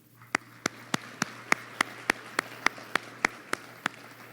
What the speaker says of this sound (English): I just want to give them one round of applause and a moment of gratitude